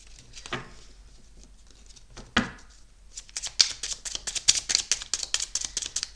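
Pocket numerology oracle cards are handled, with a few isolated flicks and slaps, then a rapid run of crisp riffling and snapping as the deck is shuffled up close.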